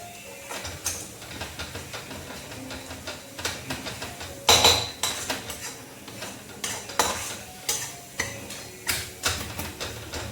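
A spatula scrapes and stirs repeatedly around a pan as patvadi sautés in oil with chili powder, salt and turmeric, with steady rhythmic clinks and a faint sizzle underneath and one louder knock midway.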